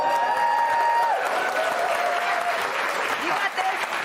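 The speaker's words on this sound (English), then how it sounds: "you should leave right now because that's the best applause" A television studio audience applauds for a first-time guest on a Fox News show, thick steady clapping throughout with a host's voice talking over it.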